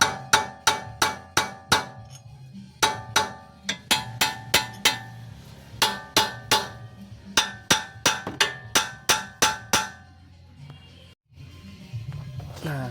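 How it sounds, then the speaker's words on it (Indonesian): A hammer strikes metal while a tie rod is being removed from a Toyota Avanza: loud, ringing blows in quick bursts of four to six, repeated over about ten seconds before stopping. "coba kita ketok-ketok ya teman-teman ya dengan palu."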